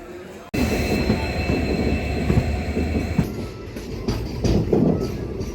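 A passenger train runs on the railway track from Hassan to Subrahmanya Road through the Western Ghats, starting abruptly into a loud, close rumble with rattling wheels and some faint squeal throughout.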